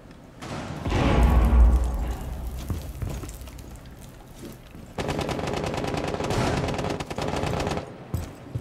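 Rapid automatic gunfire in the video game Rainbow Six Siege, bursts of loud cracking shots with a heavy thump early on, a lull, then another sustained volley before trailing off.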